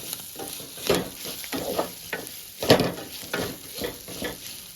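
Ginger garlic is stirred into bamboo shoot curry frying in a pan, giving scraping spoon strokes in irregular bursts over a continuous sizzle.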